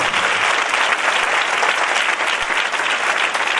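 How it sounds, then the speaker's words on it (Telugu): A church congregation of a few hundred people applauds at a Christmas service, producing dense, loud, continuous hand clapping with no break, close and enveloping. "చప్పట్లు కొట్టి దేవుని మహిమపరుస్తాము."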